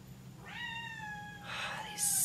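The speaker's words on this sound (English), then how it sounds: "The cat's stuck in the garage with me." A cat stuck in a garage lets out one drawn-out, rising meow, followed by a short second cry, close and fairly loud.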